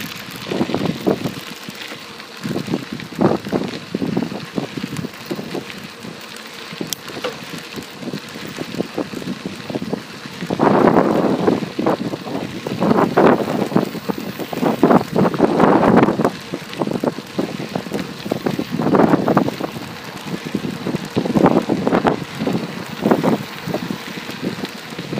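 A bicycle ridden on a rural trail in steady wind, where gusty wind buffeting the microphone dominates, swelling and fading in rough bursts over a constant low rumble, with no talking.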